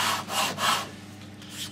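Old finish is rubbed by hand off the jarrah wood of a historic hammered dulcimer: close, gentle back-and-forth scraping strokes, about four in a slow uneven rhythm, with no talk.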